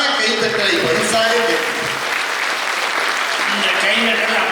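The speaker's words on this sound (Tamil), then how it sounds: "இந்த கைத்தட்டல் அப்படியே எங்க டைரக்டருக்கு போய் சேர்த்து." Sustained applause from a large audience at a comedy debate show in Coimbatore, dense steady clapping that fills the whole stretch at close range, loud and continuous with a faint voice mixed in beneath it.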